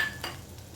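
Cluster beans fry with grated coconut being stirred in a pan, a short clink of spoon against metal over a soft background clatter, near and fairly quiet.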